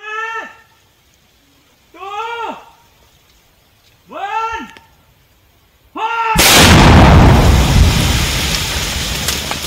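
An IED bomb destroyed by police in West Singhbhum: three loud, evenly spaced shouted calls, then a sudden heavy blast that rolls into a long, loud, sustained roar.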